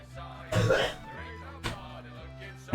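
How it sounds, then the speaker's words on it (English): A single muffled cough or throat clear comes through a wall during a livestream, followed by a second fainter one, while a voice speaks quietly nearby. "I don't know if you could hear my brother cough through the wall."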